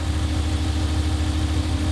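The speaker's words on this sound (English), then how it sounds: "Now, start it up, listen to it. So it sounds like a strong engine." A Dodge car engine idles steadily at close range, a strong, even low rumble with no talking over it.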